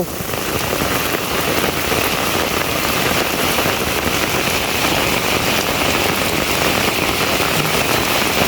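Heavy monsoon rain pours down in a village, a dense, loud, unbroken hiss of drops striking surfaces that holds steady the whole time.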